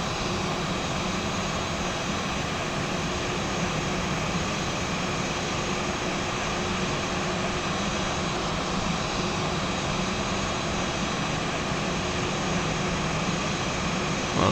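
Airliner jet engines roar steadily and loudly during an A320 landing in the X-Plane 11 flight simulator, a broad continuous rumble with a faint steady whine, uninterrupted and with no talking.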